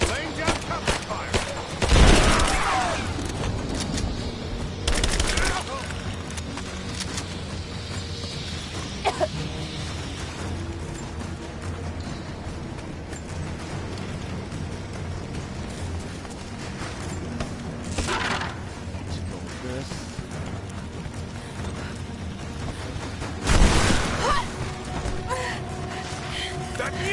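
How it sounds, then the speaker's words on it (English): Covering gunfire during a village fight in Rise of the Tomb Raider: several loud bursts of shots and cracks spread across a long stretch of game ambience, with shouting voices mixed in. "Give me suppressing fire! Now! Laying down cover fire!"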